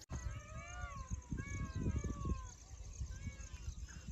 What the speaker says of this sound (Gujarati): તો મોરનો અવાજ આવે છે.